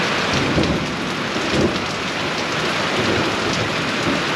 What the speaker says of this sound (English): Sit on the porch and watch it rain.